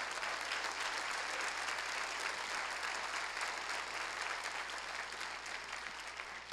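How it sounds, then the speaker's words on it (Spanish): Sustained applause from a church congregation answering a pastor's call to praise the Lord, dense and steady throughout, tapering slightly near the end. "Dele bien fuertes aplausos al Señor."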